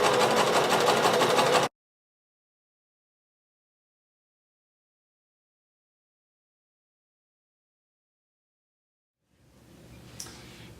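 A sewing machine stitches a halter crop top in a short, loud, steady run that stops abruptly and is followed by a long silence. A fainter mechanical sound returns near the end.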